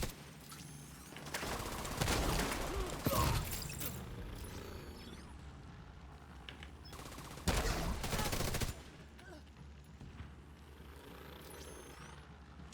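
Video game gunfire comes in two loud rapid-fire bursts, each a second or so long and separated by quieter stretches of game ambience, with a little talking in the background.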